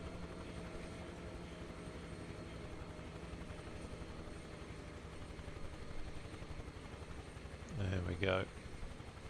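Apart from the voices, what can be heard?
UH-1H Huey helicopter in the video game Microsoft Flight Simulator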